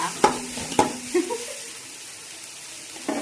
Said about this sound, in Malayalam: എന്നിട്ട് വീണ്ടും നന്നായിട്ട് അവിടെ ഇളക്കി കൊടുക്കാം